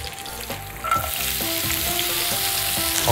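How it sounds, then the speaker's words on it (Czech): Chopped red onion sautéing in a frying pan, a loud, steady sizzle with scraping stir strokes, close up and without talk. "Na té druhé pánvi mezitím orestuji červenou cibulku"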